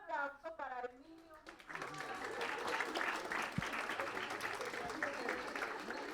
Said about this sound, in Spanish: Un aplauso para Emilio.